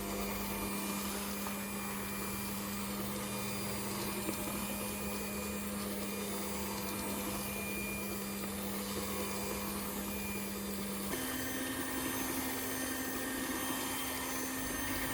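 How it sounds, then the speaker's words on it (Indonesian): An electric mixer beats eggs for steamed brownies, giving a continuous close whine that holds steady and then shifts slightly higher in pitch partway through. "Di sini adonannya aku kocok sampai ntar warnanya berubah menjadi putih"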